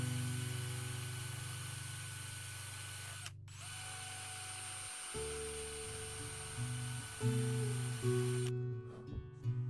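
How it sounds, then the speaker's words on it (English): A power sander works on a guitar pickguard for a Fender Telecaster Esquire, its motor droning steadily, pausing briefly, then rising in pitch as it bites into the material before cutting off near the end. "I am going to sand just up to the line"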